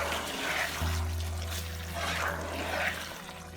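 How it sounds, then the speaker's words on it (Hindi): Yogurt is added to a mutton handi, a soft wet pouring and sloshing under a steady low cooking hum, close and continuous with no talk. "अब हम इसमें योगर्ट शामिल करेंगे"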